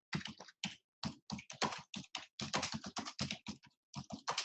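Rapid, uneven keystrokes on a computer keyboard, close and clear, with short pauses between bursts and no talking.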